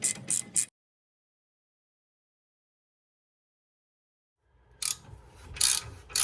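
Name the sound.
ratchet with 18 mm socket removing Audi control arm bolts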